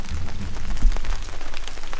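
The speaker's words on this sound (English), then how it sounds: "The rain has eased up a little bit, but it's still drizzling." Light rain drizzles steadily at an outdoor campsite with lingering snow, making a soft continuous patter with scattered drops tapping nearby surfaces, no voices.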